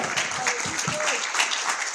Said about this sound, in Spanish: Fuerte los aplausos para ellos, por favor.